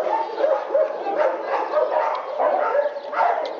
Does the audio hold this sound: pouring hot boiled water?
no